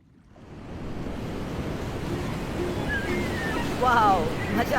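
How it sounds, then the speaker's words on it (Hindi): Ocean surf rolls in an animated film, a broad washing roar that swells from near silence and stays steady, with brief squeaky, voice-like chirps near the end. "मुझे समुद्री लहरों की आवाज बेहद पसंद है।"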